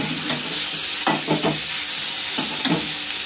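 Pumpkin stems are stir-fried in a pan, giving a steady sizzle with scraping stirring strokes at irregular intervals throughout, close and moderately loud.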